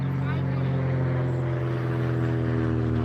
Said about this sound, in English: Yeah, you can hear the airplane overhead.